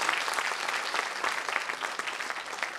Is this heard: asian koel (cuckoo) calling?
no